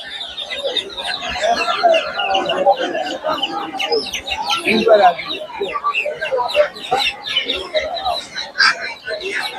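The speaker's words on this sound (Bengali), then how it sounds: "33 দিন বয়সের দেশি মুরগির বাচ্চা" A crowd of chickens, including 33-day-old local chicks, clucks and chatters continuously at a busy poultry market, close and lively with overlapping calls.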